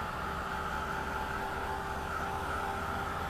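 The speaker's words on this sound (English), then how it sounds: "I'm just gonna hit this with the heat gun," A heat gun blows hot air in a continuous, even whoosh with a faint whine, steady and close for the whole stretch while drying an art journal page.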